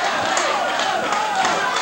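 A wrestling arena crowd chants and yells for Kevin Von Erich at an SICW All-Star Wrestling match, a dense, loud, steady roar of many voices filling the whole stretch with no break.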